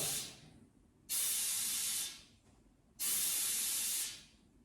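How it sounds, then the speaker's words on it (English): An air hose hisses as it pressurizes an RV-10 aircraft fuel tank, two loud sustained bursts of rushing air about a second long each, separated by quieter background hiss. "So first thing we'll do is we'll hook up our air hose. We'll put some air in it until that balloon blows up."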